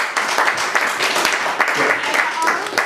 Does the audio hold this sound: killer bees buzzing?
no